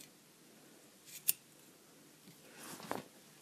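Scissors snip yarn tails on a four-quadrant pom-pom, with one sharp close cut followed by a softer cluster of snips in a quiet room.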